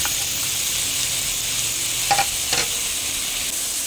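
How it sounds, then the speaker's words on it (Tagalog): Tomatoes being stirred and sautéed with aromatics in a pan for squid adobo, a steady close sizzle with two brief spatula scrapes partway through, no talk. "Haluin lang natin ang haluin yan hanggang sa maluto yung ating ginigisa na yan"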